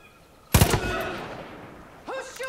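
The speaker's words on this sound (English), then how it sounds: "Who's shooting?" Gunfire in Far Cry 5 erupts as a sudden loud burst of rapid shots, then a sustained rumbling tail with a voice speaking faintly near the end.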